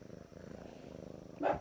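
A pet cat named Garfield purrs close up in a steady, low rhythmic rumble, with a brief louder rustle near the end.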